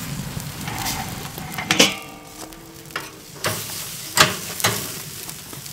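Bison and beef steaks sear on a hot surface, giving a steady crackling sizzle broken by a few louder bursts of spattering and hissing as the meat is moved.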